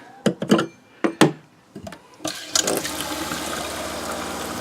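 Water bursts from the hot side of a sink tap in a new trailer during de-winterization, after a few sharp knocks and clunks of the fixture; the flow then runs steadily, close and loud.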